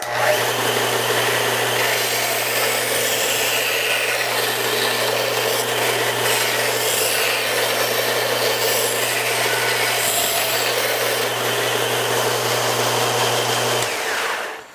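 A household disc and belt sander shapes a rounded wood piece braced on its work table, giving a steady, close abrasive whir with a low motor hum that runs unbroken until it cuts off near the end.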